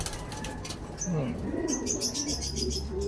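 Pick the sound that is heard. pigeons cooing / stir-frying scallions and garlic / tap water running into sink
pigeons cooing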